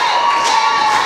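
Wrestling crowd at an NWA Mountain State show cheering and shouting for Billy Litt, a dense, loud, sustained roar of voices with a short swell in the middle.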